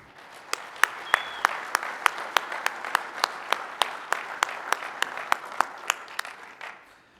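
Sparse, fairly faint clapping from a keynote audience at a conference, with sharp claps landing in a steady, evenly spaced rhythm over a quiet room background.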